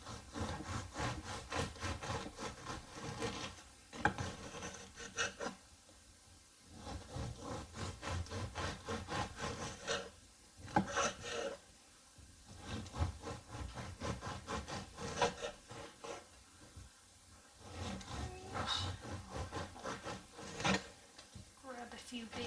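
A knife saws back and forth through a sourdough loaf from a local bakery, cutting big slices from the middle in repeated rasping strokes separated by short pauses, close and moderately quiet.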